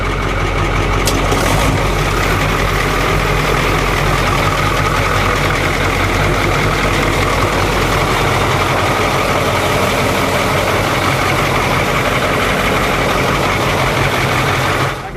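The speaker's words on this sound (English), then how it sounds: "Starting starboard engine." A patrol boat's starboard engine fires and runs at a loud, rough idle, a low chugging throb holding steady for several seconds before easing slightly near the end.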